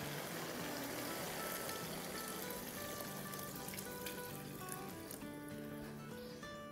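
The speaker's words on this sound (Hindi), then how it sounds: "इस पॉइंट पर हम क्या करेंगे, इसमें डालेंगे पानी जो कि है 3 कप।" Three cups of water are poured into a pot of aloo matar pulao cooking in oil, giving a steady, loud rushing splash with sizzling that fills the whole stretch without talk.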